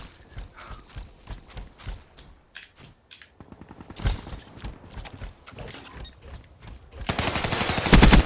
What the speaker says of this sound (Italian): Ma perché sparano tutti vicino a me?